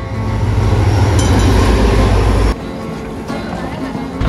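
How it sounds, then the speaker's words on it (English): Busy ambience at a train station in Karachi, a loud steady low rumble with mechanical noise that drops abruptly midway to a quieter background hum. "So we're currently at the train station here in Karachi."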